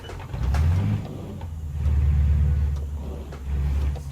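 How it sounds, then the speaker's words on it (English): Peterbilt 359 truck with a 3408 engine in a driving game, its brake saver engaged: a steady low engine drone in three long swells, with a faint high whine riding above the rumble. "Brake saver. You hear that high-pitched whine?"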